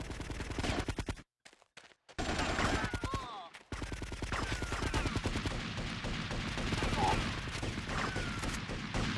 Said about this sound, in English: Those bullets definitely sounded like they were behind me